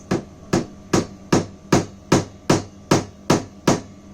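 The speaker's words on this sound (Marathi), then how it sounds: "वुडन बॉक्स आहे आणि हा खिळा टोकाकडून मी मारतोय, पॉइंटेड एक" A hammer drives a pointed iron nail into a wooden box with about ten sharp, evenly spaced blows, each strike ringing briefly, close and loud, with no talking.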